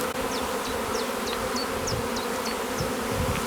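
Honeybees buzz in a steady, dense drone around an open hive frame, with darting individual bees passing close over the continuous hum.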